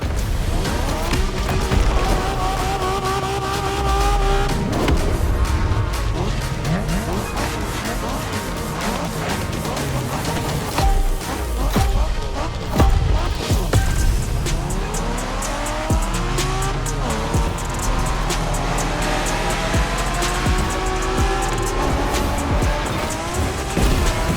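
A car drives hard in the racing game The Crew Motorfest, set in Japanese street racing: a loud, sustained engine roar with rising and falling revs and tire squeals, heard alone throughout.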